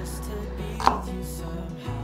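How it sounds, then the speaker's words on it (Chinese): Green beans, stringy fibres removed, are chopped into small pieces on a board: a single sharp knife strike comes through clearly over a low steady background hum, with no talking. "把敏豆切成粒状"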